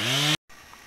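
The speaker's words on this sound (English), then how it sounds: "We're sawing up some trees, putting them on the mill and making lumber for an outbuilding." Chainsaw sawing up trees at a farm sawmill site, a loud engine whine that cuts off abruptly, then a short silence and a faint outdoor hush.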